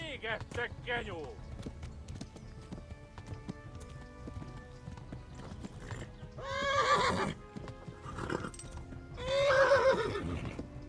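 Hooves clatter in a quick, rhythmic gallop throughout in the video game Kingdom Come: Deliverance, with a horse whinnying loudly twice and shouting voices in between.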